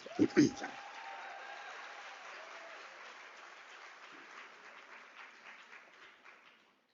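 Graduation audience applauding at a University of South Africa celebratory ceremony: a broad wash of clapping starts at once after a couple of loud bumps, holds steady, then slowly thins and fades away over several seconds.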